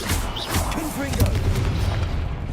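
Confringo fire-blast spell explosions in Hogwarts Legacy, deep booming thuds and crackling bursts that roll on continuously while a person talks over them.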